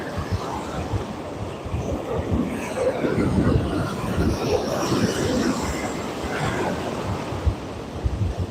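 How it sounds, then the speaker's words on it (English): Ocean surf rolling in on a beach during evening surf fishing: a steady, broad roar of breaking waves that swells and eases, with no talk. "the waves crashing in is probably helping out"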